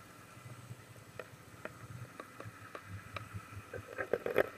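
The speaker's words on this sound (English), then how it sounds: "You hear that boat motor?" Underwater hum of a distant boat motor beneath the sea, a low steady drone with repeated soft clicks and snaps of reef life layered over it, growing a little busier at the end.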